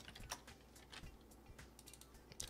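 Soft clicking of keys being typed on a computer keyboard during a batch programming lesson, quiet and steady with occasional sharper taps, no talk.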